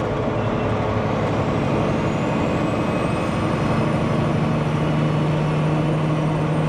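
A heavy truck with an 18-speed transmission runs under load with no engine brake, a steady loud low engine drone continuing without pause and a faint rising whine near the middle.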